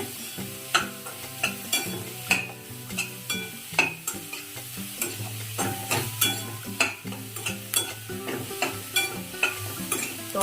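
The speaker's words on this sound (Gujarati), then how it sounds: "પૂરા શાકભાજીને આપણા બસ આ જ રીતે ફટાફટ હલાવતા રહેવાનું છે" Vegetables for Manchow soup are stir-fried in a pan, a spatula scraping and tossing them in quick, rhythmic strokes over a sizzling bed, each stroke a sharp clatter close up, with no talk.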